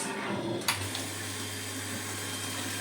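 A steady low mechanical hum of a PZ250 water pump station running without its cover, with a constant drone and faint watery hiss, one brief click early on.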